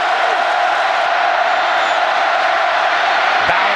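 A college football crowd at Mississippi State versus Auburn roars steadily in the stadium, a dense, loud wash of cheering that holds without a break for several seconds.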